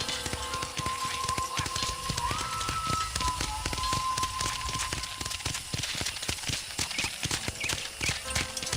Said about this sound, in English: This is our horse corral.